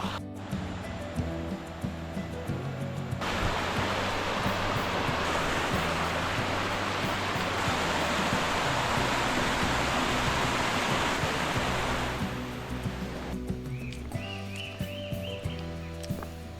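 Cachoeira do Funil, a waterfall along a forest trail, roars as a loud broadband rush that swells up and holds steady for several seconds before easing back, with faint footsteps and trail noise around it.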